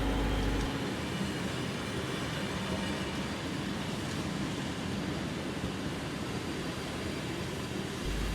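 Steady, continuous rumble of two diesel locomotives hauling Southern Aurora passenger carriages past nearby, with broadband wheel and engine noise holding level throughout and no voices.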